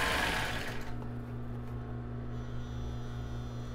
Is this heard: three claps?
no